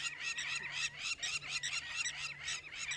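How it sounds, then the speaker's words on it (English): Agitated birds call on an evening safari drive in the African bush, rapid repeated harsh honking cries in a steady rhythm over a faint engine hum. "The birds are getting upset."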